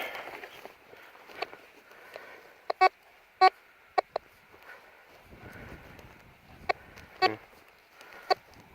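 Tesoro Mojave metal detector sounding over a target at an iron-infested relic site, giving a series of short, sharp beeping tones spaced irregularly over a faint background hiss.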